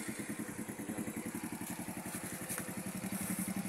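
A matte black and gold Euro Marvel 125 motorcycle engine idles close by with a quick, even putter, steady and fairly quiet throughout.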